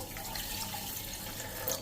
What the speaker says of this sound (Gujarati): એમાં 1 ગ્લાસ પાણી નાખી દેવાનું છે.